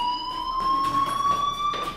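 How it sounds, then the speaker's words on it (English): A fire alarm from the Life Is Strange video game rings in a steady, high electronic tone that holds without a break, with faint background noise and no talking. "do you hear that fire alarm?"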